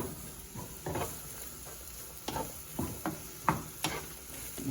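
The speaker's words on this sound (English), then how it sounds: "And here it's sizzling away." Mushrooms and vegetables in a hot pan give a soft sizzle broken by irregular stirring scrapes and clacks of a utensil against the pan, close and moderately loud.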